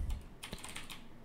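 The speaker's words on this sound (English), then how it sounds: "why did I keep typing that?" Quick bursts of typing on a computer keyboard, a few close, crisp key clicks in short irregular clusters over faint background noise.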